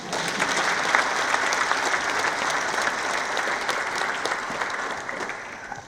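Staff at a foreign and diaspora affairs ministry gathering clap for a speech, a dense, steady round of applause from an indoor crowd sustained at even loudness throughout.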